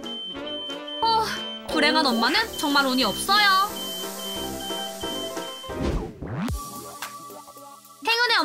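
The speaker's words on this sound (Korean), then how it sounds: "화재 알람도 울렸네요." A smoke alarm sounds with steady electronic beeping while an iron scorches clothing in a home, heard loudly alongside a voice speaking over it and a sharp crash near the end.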